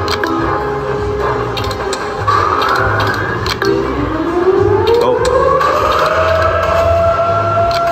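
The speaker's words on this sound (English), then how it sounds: "I hear a siren." A rising, wailing siren sweeps upward over busy electronic slot machine game music and chiming effects, loud and continuous, with a brief exclamation from a voice.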